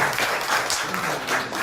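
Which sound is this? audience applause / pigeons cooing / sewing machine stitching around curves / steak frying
audience applause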